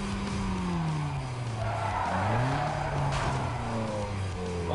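A car in the video game Need for Speed Most Wanted (2005) does a handbrake turn, and its tires squeal in long, wavering skids over a loud, steady engine drone. The sound is close and continuous, with no talk.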